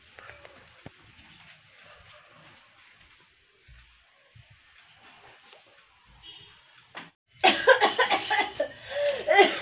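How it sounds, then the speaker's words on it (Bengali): After a long, quiet stretch with faint murmuring, a burst of loud, harsh coughing breaks out near the end from someone suffering from a cold on a chilly day. "ঠান্ডায় কাশি হয়ে গেল"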